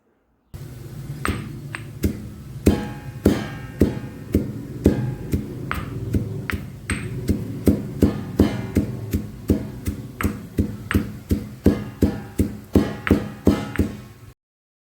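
Fenugreek is pounded coarsely in a stone mortar and pestle: a steady run of sharp, ringing knocks, roughly two per second, close and loud with no talk.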